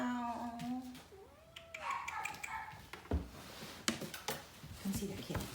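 A cat meows several times in short, rising and falling calls amid close-up tapping and handling noises, while a person talks to it softly and a voice also imitates a meow.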